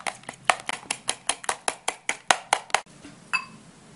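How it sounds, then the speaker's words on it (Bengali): An egg beaten by hand in a bowl, a rapid run of about fifteen sharp, evenly spaced taps from a utensil striking the bowl, close and clear, then stopping. "প্রথমে আমরা ডিমটাকে ফেটে নিব।"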